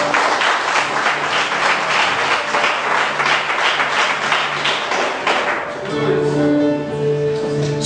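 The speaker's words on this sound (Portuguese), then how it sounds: "Os que puderem, dê uma salva de palmas para Jesus de Nazaré" Congregation applauding at a revival crusade service, a dense steady wash of many hands clapping that thins near the end as a sustained organ or keyboard chord comes in underneath.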